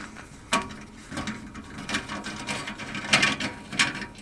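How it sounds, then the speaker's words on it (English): A screwdriver turns a small screw holding a furnace igniter, giving irregular close clicks and ratcheting scrapes, with a few sharper taps spread across a few seconds and no talking. "We're going to loosen up this screw and remove the igniter."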